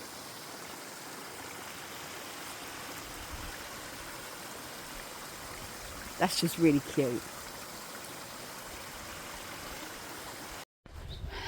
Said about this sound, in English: found a mini waterfall.